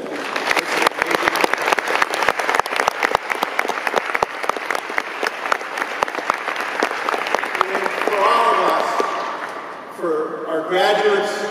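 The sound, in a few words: audience applause at graduation ceremony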